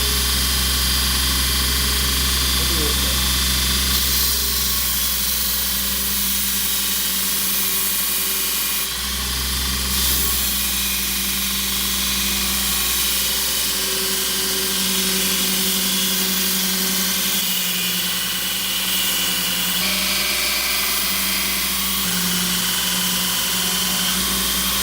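A Grizzly 2x42 belt grinder running a PowerTech zirconia 355 belt, a loud continuous motor whine and belt roar with a steady grinding hiss, close and unbroken throughout.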